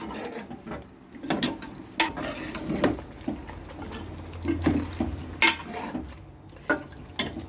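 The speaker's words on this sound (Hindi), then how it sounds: "चिकन को हमने अच्छी तरह भूनना है जब तक घी ऊपर आ ना जाए" Chicken stirred and fried in masala and ghee in a pan for Hyderabadi chicken gives irregular scraping clicks and clatter of a spoon against the pan, close and steady, with no talking.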